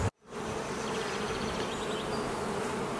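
Honey bees hum at a summer beehive with a dense, steady buzzing swarm sound, close and continuous after a brief dropout at the start.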